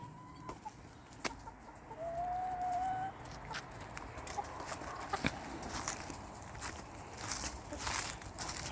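Backyard chickens cluck softly and intermittently in a coop, with scattered short calls and faint rustling and knocks around them, quiet and close, and a voice murmurs briefly in the background.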